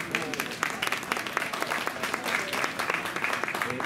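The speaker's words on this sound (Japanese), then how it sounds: "大きな拍手。" A crowd at the opening of the 16th Shinjuku Trad Jazz Festival in Tokyo applauds warmly, with many distinct hand claps ringing out close by and continuing unbroken for several seconds.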